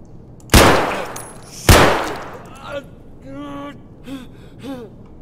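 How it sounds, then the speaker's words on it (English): SKS rifle fire in Escape from Tarkov, aimed at a helmet: two sharp, loud shots about a second apart, each with a short tail and fading ring, followed by quieter metallic pings and clatter. "Next, testing the SKS against a helmet."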